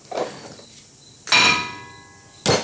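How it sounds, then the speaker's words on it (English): Metal clanks as a brake rotor comes off the front wheel hub of a 2007 Nissan Xterra, with a soft knock, then two sharp ringing metallic impacts, close and loud, with no talk. "I got the caliper bracket removed, so now let's remove the brake rotor."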